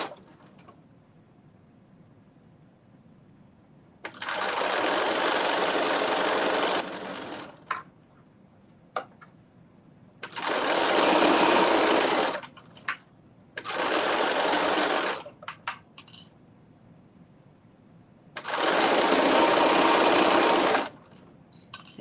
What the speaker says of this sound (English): Stitching this at 5/8 of an inch seam allowance.